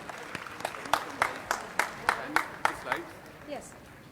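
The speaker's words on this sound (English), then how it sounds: "Please give a round of applause for him." Audience at an Indian legal academic seminar clapping for a speaker called to the stage, with about a dozen distinct, fairly loud claps in a loose rhythm that tapers off toward the end.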